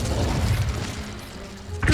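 A fire spell is cast during goblin dig-site combat in Hogwarts Legacy: a low booming burst with a crackling rush, then a fresh impact near the end, loud and up close with no talking.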